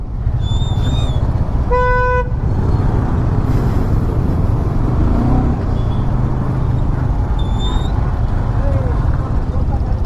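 Heavy road traffic in Bangalore roars steadily around a motorcycle rider while car horns honk: a short toot near the start, a longer sustained blare, and another brief beep later, all loud and close.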